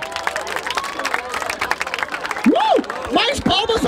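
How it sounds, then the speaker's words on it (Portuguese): A crowd at a rap battle applauds and cheers, bursts of clapping mixed with loud whoops and whistles, close and dense, with a voice calling out over the noise. "Palmas pra essa batalha."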